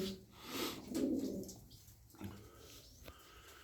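Arab pigeons coo softly in a coop, a few low faint calls at close range with some rustling and background noise.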